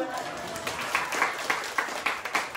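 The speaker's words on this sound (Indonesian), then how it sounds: "Tepuk tangan semuanya." Clapping from a group of teachers at a vocational school gathering, with several sharper, rhythmic claps standing out over a bed of lighter clapping and murmur.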